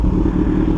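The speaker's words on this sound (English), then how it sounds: "this exhaust is really loud" A Suzuki GSX-R 1000 sport motorcycle's exhaust drones loudly and steadily at close range, a deep continuous engine rumble with no talk.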